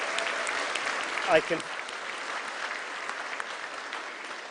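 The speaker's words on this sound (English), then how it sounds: "that's the longest applause I've ever had for an honorary graduate" A graduation ceremony audience at the University of Stirling applauds an honorary graduate, with steady, moderately loud clapping and a brief voice partway through.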